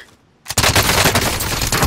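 Dense, loud automatic gunfire erupts abruptly after a quiet moment in a video game battle, with rapid shots continuing without pause to the end.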